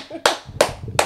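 Three sharp hand claps, spaced roughly a third of a second apart, close and fairly loud, with a faint voice murmuring faintly underneath.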